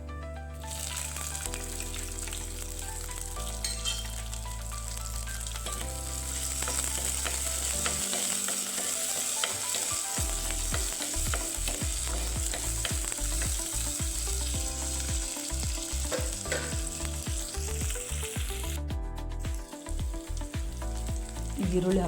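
Garlic and green chillies sizzle and fry in hot oil for a spinach (palak) gravy, a steady loud crackle with a brief burst as they go in, then continuous frying with faint stirring clicks.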